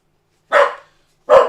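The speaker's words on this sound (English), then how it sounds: "You keep that barking up." A dog barks twice, close and sharp, with a short silent gap between the two barks.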